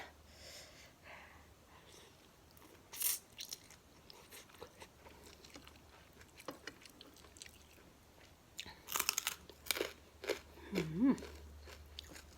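Someone eats spicy papaya salad with fermented fish sauce, making close, wet chewing and crunching sounds with a few louder bites and snorting breaths.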